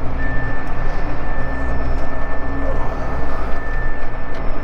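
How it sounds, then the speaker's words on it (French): A farm tractor's rear hitch lift gives a thin, steady warning beep on a late-November field while preparing a seedbed for winter peas, over the loud low drone of the engine. "le petit bip là c'est mon relevage"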